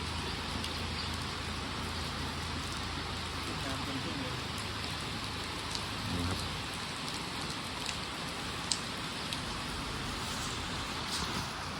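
Steady heavy rain falls on an elephant shelter over the whole stretch, a dense hiss of drops on a surface with a few sharper patters, and faint sounds underneath.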